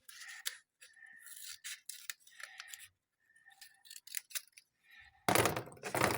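Scissors cut through wrapping material for a surprise package, a series of close, crisp snips in short bursts separated by quiet gaps, ending in a louder rustle of the material, with no voices.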